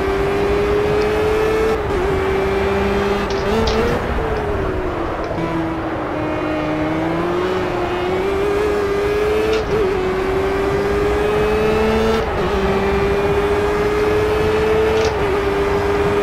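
A race car engine in Project CARS drones loudly and continuously, its pitch rising and dipping with gear changes and throttle over a sustained stretch, with no voices.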